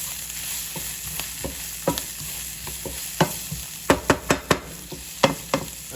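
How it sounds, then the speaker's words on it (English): Coconut shrimp soup broth bubbling in a pot on the stove, a steady low sizzle broken by a spoon stirring and sharp clinks against the pot, clustered near the end. "Let that simmer down for a minute."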